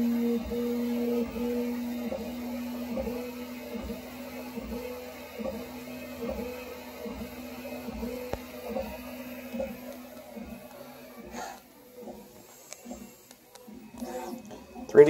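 A Prusa Mk3 3D printer fitted with a 3D Chameleon filament changer hums and clicks in a steady repeating pattern while purging from blue to pink filament, fairly faint and close, with louder mechanical clatter near the end.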